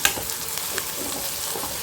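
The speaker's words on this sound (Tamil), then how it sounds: "இப்போ பாருங்கள் வெங்காயம் நல்லா வதங்கிக்கிட்டுருக்கு" Sliced onions sizzle and fry in a pan for a Tamil-style prawn gravy, a soft continuous crackle with faint stirring scrapes, close by and quiet.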